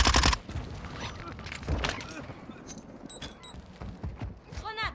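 Scattered gunshots in the battle royale shooter Warzone, a few sharp cracks at the start and near two seconds, then quieter distant pops under radio-style game chatter.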